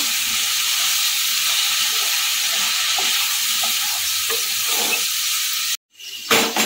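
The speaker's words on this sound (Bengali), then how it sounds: "আর যে সসটা আমি বানালাম সেটাও এর মধ্যে দিয়ে দেবো। একটু নেড়ে নেব।" Chilli garlic prawn egg noodles sizzle steadily in a hot pan as sauce is stirred in, a continuous loud frying hiss with soft scraping stirs, broken by a brief cut near the end.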